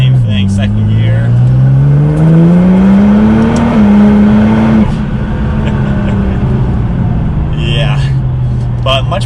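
Nissan GTR with a transmission tune accelerating hard, its engine note climbing steadily before a quick shift into second gear drops the pitch, then pulling again loud and close, with some talk in the cabin.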